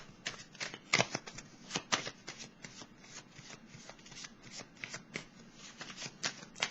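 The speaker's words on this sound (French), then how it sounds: "Je vais piger une petite carte." Tarot cards riffle and slide close by in a quick run of crisp, papery flicks and soft taps, steady for several seconds at modest volume, with no voices.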